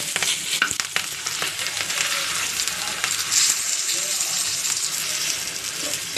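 Palak dal being stirred and fried in a pan, a close hiss of sizzling with scraping spoon strokes and a few sharp clinks, steady throughout with no talk.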